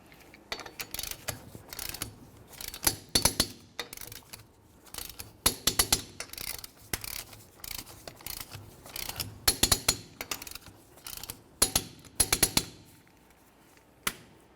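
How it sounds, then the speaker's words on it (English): A torque wrench tightening 19mm lug nuts to 100 foot-pounds on a 2004-2010 Chevrolet Cobalt wheel gives repeated short bursts of sharp ratcheting clicks separated by pauses, close and without talk. "let's continue on to torquing each of our 4 19mm lug nuts to 100 foot-pounds"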